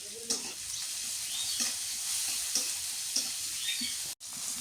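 Okra sizzles steadily in a pan with chopped onion and green chillies, broken by several scraping stirs; one sharp clatter comes near the end, and no one speaks.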